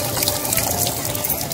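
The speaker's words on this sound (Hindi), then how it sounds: "देखिए पानी आ रहा है फाइनली।" Water runs from a tap into a bucket in a steady, close gush, loud and unbroken for a brief moment.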